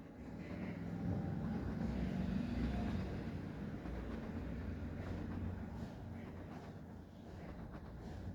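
An engine warms up with a steady low rumble and a constant drone that holds for several seconds at moderate level, with faint talk now and then in the background.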